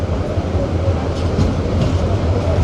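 Chattala Express passenger train pulling into Akhaura Junction station, a steady close rumble of railcars with faint rhythmic wheel clatter throughout.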